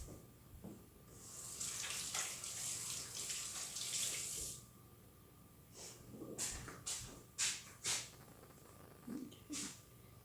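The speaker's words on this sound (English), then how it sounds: "Let me go wash my hands." Tap water runs steadily while hands are washed at a kitchen sink, a continuous hiss for several seconds that stops, followed by scattered splashes and short water sounds.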